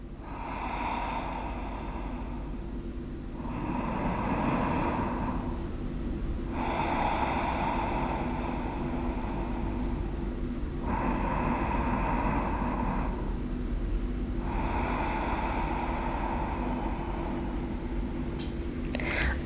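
Slow, deep yoga breaths with eyes closed, long airy inhales and exhales repeating in an even rhythm, close and soft over a faint steady background hiss.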